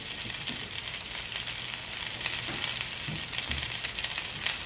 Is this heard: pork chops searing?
yes